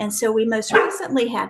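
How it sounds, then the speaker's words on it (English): A pet dog barks and yips in short bursts close to the microphone, overlapping a person speaking during an online seminar. "sorry, that's my dog"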